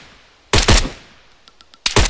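Gunfire from shooting targets in the video game Arma, in a night-time Zargabad setting: two loud, close broadband bursts of shots, then a faint stretch of small clicks and tones, then a final loud volley. No one talks.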